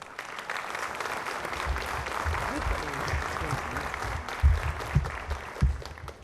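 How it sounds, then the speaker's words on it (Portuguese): An audience at a formal municipal assembly session in Loures applauds steadily, the clapping close and sustained, with voices murmuring underneath and a few louder thumps toward the end. "para o qual eu peço desde já o vosso aplauso"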